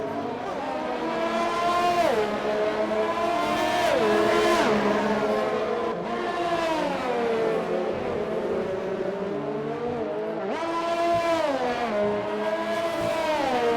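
Formula racing cars in a racing video game roar continuously, engines rising and falling in pitch as they brake and accelerate through corners during a Vietnam Grand Prix race, loud and sustained, with several overlapping engine tones.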